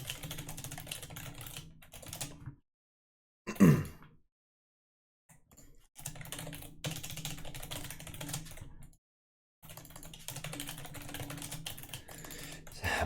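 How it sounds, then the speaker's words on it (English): Typing on a computer keyboard during a League of Legends game, quick bursts of close key clatter broken by short silences, with one brief vocal grunt and no speech. "I'm gonna type to these guys"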